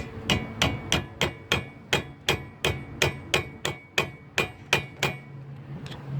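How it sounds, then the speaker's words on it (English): A hammer strikes a bolt during front wheel bearing replacement, about fifteen sharp metallic blows in a steady rhythm, loud and close, ending with a softer clink. "you can continue hammering on the bolt like this"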